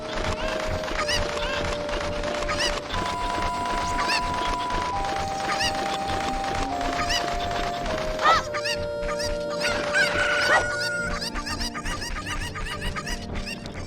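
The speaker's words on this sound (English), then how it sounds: "There's one more chicken in this box over here." Chickens clucking and squawking in The Legend of Zelda: Ocarina of Time, repeated bursts of clucks over steady game music, with a few sharper squawks near the end.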